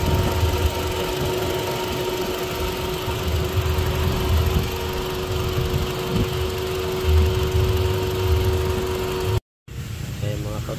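A car engine idles roughly at close range with an uneven misfire and low-idle problem, a steady mechanical drone with irregular stumbles, cut off briefly near the end before resuming.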